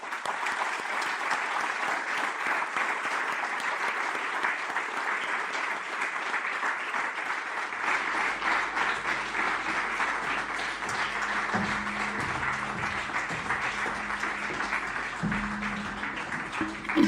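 Audience applause at a live concert, sustained dense clapping from a crowd throughout, with low bass and instrument tones creeping in under it partway through.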